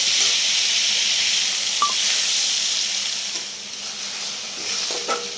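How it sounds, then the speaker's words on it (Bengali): Spice paste sizzling as it is fried and stirred in a pan while cooking taro leaves, a steady broad hiss with occasional faint scrapes and clinks of the spatula. "পেস্টটা দিয়ে আমি ভালো করে মশলাটা একটু কষিয়ে নেব"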